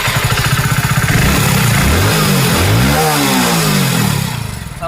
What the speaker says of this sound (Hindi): बाइक को करते हैं स्टार्ट। अब कैसा साउंड आता है सुनिए।